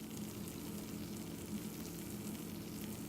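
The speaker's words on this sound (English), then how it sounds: "do you hear that sizzle?" Cheeseburger mac and cheese sizzles steadily in the pan as the pasta, sauce and cheese crisp and caramelize, a constant close crackling hiss with no voices.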